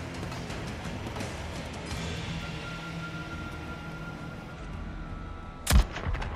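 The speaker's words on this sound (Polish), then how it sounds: "Tam strzelają." Gunfire in Days Gone crackles at a distance over a rumbling game soundscape, with a few muffled shots early on and one loud, sharp blast near the end.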